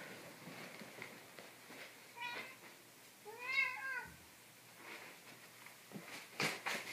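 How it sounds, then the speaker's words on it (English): A cat meows at a door, a single rising-and-falling call in the middle of a quiet room, with faint background noise and a couple of soft thumps around it. "My cat's at the door."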